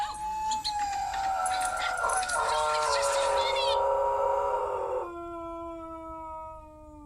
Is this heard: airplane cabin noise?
no